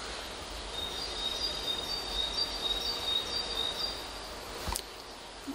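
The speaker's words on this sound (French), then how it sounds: "Oui, on entend les oiseaux." Birds chirping with thin, high calls outdoors at the Château de Chambord, closed during the coronavirus lockdown, steady and fairly faint over quiet ambience with a brief knock near the end.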